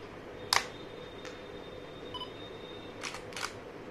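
DSLR camera firing its shutter indoors in a room; a sharp click near the start, a fainter tick, then a quick pair of clicks toward the end, quiet and close with a faint electronic tone between.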